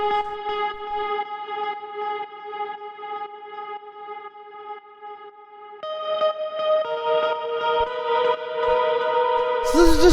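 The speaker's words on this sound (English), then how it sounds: "And then we have this guitar which sounds like this." Dreamy, reverb-soaked guitar melody from a melodic house track plays alone, holding steady sustained notes that shift to a brighter, busier phrase partway through and swell louder toward the end.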